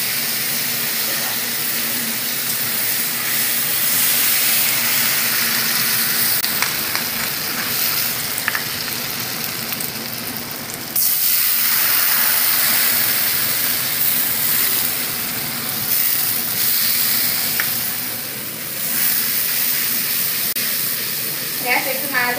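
Whole cumin, ginger and spices sizzle and crackle steadily in hot oil, a dense close frying hiss lasting throughout with brief shifts in intensity.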